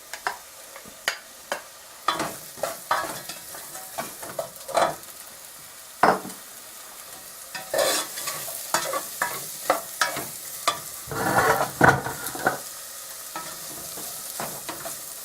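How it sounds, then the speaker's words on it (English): Chopped onion sautéing in a pan while being stirred for chola (channa masala), a steady close sizzle broken by repeated scraping stir strokes and louder bursts of frying, with no talking. "I am going to add the chopped onion, 1 chopped onion, and saute it."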